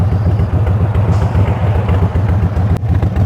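A 2023 Indian Sport Chief motorcycle with a Stage 2 exhaust upgrade idles and rumbles steadily up close, a loud, continuous low engine throb with a pulsing beat throughout.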